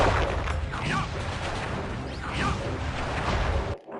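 In the Sly Cooper video game, a firework attack sets off a dense run of crackling blasts and booms that keeps going for several seconds, then cuts off abruptly into quiet.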